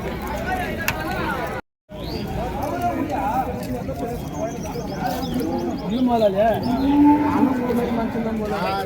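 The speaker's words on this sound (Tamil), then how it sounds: "ரெண்டுமே நாட்டு காளைங்க, அட்டகாசமான காளைங்க." Native Tamil bulls and cattle at the Vaniyambadi cow market, lowing and mooing repeatedly amid a busy, steady crowd murmur, with faint birds and hoof clatter in the background and someone talking over it.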